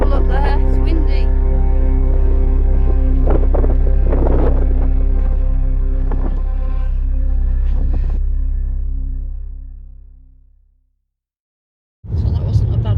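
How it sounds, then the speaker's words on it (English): Strong wind buffets the microphone on an exposed Shetland clifftop, a loud low rumble with gusting bursts that dies away to near silence before returning abruptly. "Be careful up there, it's windy."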